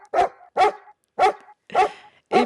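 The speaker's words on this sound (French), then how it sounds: "Il y a également des aboiements de chiens." Recorded dog barks played back in a wolf fear experiment, five sharp separate woofs in a steady rhythm, close and loud with silence between them.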